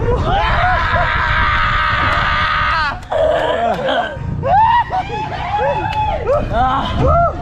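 A crowd of people scream together loudly on a count, a sustained shout lasting about three seconds, followed by excited overlapping yelling, laughter and talk.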